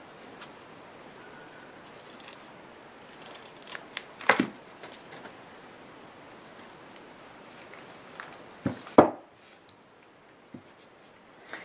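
Scissors cut through craft material for a DIY Valentine's altered-bottle project, giving two sharp, close snips spaced several seconds apart against a quiet background with faint handling noises.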